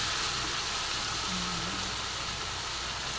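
Sauce seasoned with Magic Sarap frying in a pan for bitter gourd: a steady, dense sizzle close up, with faint scraping of stirring underneath and no talking.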